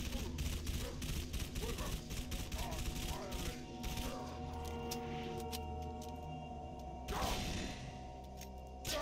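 Rapid gunfire and weapon sounds from the video game Halo 3: ODST ring out on busy city streets, with dense bursts of shots over a steady loud game soundscape, along with whooshes and sharper cracks later.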